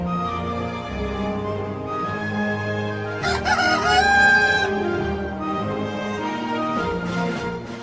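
A rooster gives one loud, drawn-out cock-a-doodle-doo near the middle, rising clearly above a steady, sustained tonal backdrop.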